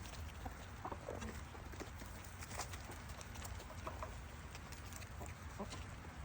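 Backyard chickens cluck and murmur steadily around a spot where a handful of pulled grass is tossed to them outdoors, soft scattered calls over a constant low background.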